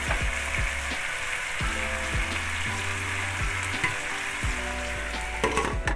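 Fried hilsa fish heads stirred among vegetables in an oiled pan for a mixed-vegetable chorchori: a continuous close sizzle with repeated scraping strokes of a spatula, rhythmic and steady, no talk.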